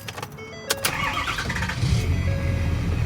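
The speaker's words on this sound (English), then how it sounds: "So if you start the truck," A truck engine with a newly replaced AC compressor cranks briefly, catches and settles into a steady, fairly loud running rumble close by.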